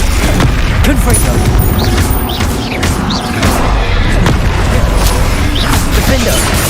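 Confringo fire-blast spell explosions in Hogwarts Legacy, loud booming bursts and crashing impacts layered over dense game combat noise, continuous and close.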